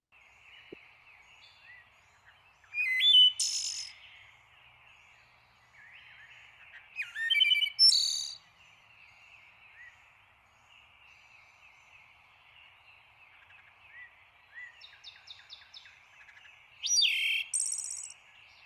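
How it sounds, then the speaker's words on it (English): A wood thrush sings three separate phrases, each a few fluting notes followed by a high trilling flourish, separated by long pauses over faint background hiss. "All right, wood thrush. One of my favorite sounds for sure."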